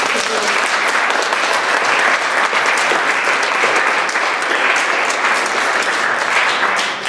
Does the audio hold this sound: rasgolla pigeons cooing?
no